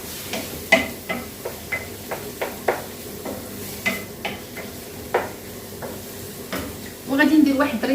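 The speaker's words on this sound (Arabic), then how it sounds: "غادي ندير واحد صدر ديال الدجاج اللي قطعته حتى هو طريفات رقاق بحال هكا" Thin strips of sliced chicken breast cook in a hot pan, with regular stirring clicks and scrapes of a utensil against the pan every half second or so over a quiet background, then a louder sizzle near the end.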